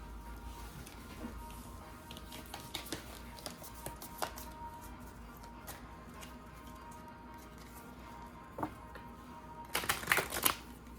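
Angel oracle cards being shuffled in the hands, a soft papery riffle and patter of light card taps through a quiet room, building to a denser burst of shuffling near the end with no talk.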